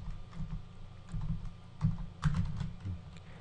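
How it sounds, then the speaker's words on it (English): Quiet, irregular clicking from typing on a computer keyboard, with a run of soft keystrokes and a few sharper taps. There is no speech. "I'm going to type Whirlpool here"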